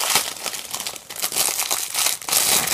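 Plastic resealable packaging of a squishy toy crinkles and crackles loudly up close in repeated bursts as it is opened and handled.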